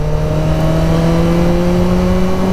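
A 1000cc motorcycle engine cruising steadily in first gear at about 30, a loud, continuous drone with a stable low hum and no throttle changes, accompanied by constant wind and road noise.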